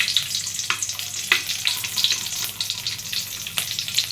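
Onions dropped into hot oil in a pan for a mustard-paste curry crackle and sizzle nearby, with sharp spits and pops over a steady frying hiss and no speech.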